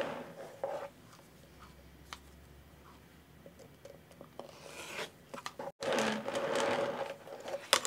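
A rotary cutter rolls along a quilting ruler, trimming fabric on a rotating mat, giving soft scraping strokes and light taps. A brief rasping burst follows, close and fairly quiet.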